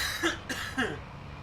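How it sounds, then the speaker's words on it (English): A man coughs nearby in three quick rough bursts, fairly quiet against a low steady background hum. "I can't shake this cough"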